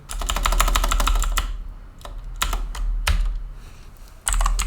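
Rapid clatter of a computer keyboard as JavaScript code is typed, steady bursts of close keystrokes with brief pauses between them, no voices.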